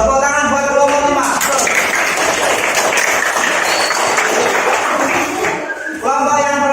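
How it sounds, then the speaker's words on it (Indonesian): Elementary school pupils clap in a classroom for a presenting group, a loud, dense burst of small hands that swells and fades, framed by tonal, voice-like sounds at the start and end. "Tepuk tangan buat kelompok 5."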